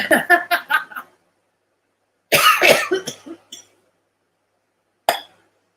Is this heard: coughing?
yes